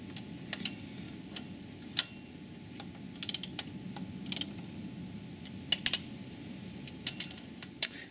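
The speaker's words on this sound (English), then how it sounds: "So I'm just going to counter hold the center bolt just whilst doing these up." Cam pulley nuts being tightened on an Audi/VW 2.0 TDI engine while the centre bolt is counter-held: a quiet series of irregular metallic ratchet clicks and ticks over a low steady background hum.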